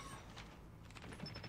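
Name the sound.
gunshots in a video game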